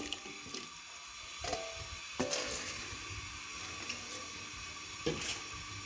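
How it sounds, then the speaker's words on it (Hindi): Potato fries tipped into a pot of boiling water in a home kitchen give a watery rush and bubbling, with a few sharp splashes and clatters standing out over the steady churn. "पानी को उबाल आ गया है, अब मैं इसमें फ्राइज़ शामिल कर दूँगी।"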